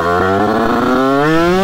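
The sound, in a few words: video game motorcycle ignition cut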